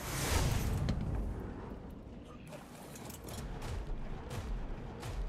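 A volley of rockets fired in the video game Ark Survival Evolved during an Ice Titan fight: a loud burst of launches at the start, then rolling booms and rumbling blasts that carry on steadily.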